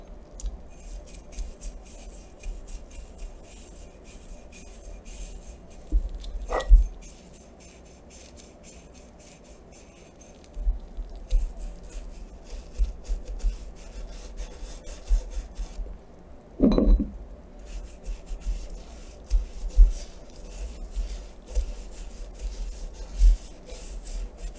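Aluminum parts from a Soligor 135mm f2.8 lens get scrubbed with a cleaning mixture, a soft, steady rubbing and brushing with a few sharper scrapes, close and quiet, with no talking.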